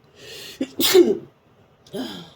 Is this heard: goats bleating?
no